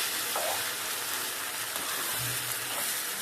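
Mutton brain frying gently in a pan over a low flame, giving a steady, soft sizzling hiss throughout with no talking.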